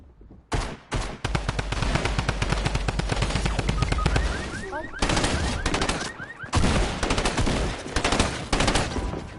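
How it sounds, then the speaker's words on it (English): Burst SMG fire in a video game, loud rapid bursts of gunfire in quick succession over several seconds, with brief pauses between volleys. "Oh, that gun. Burst SMG."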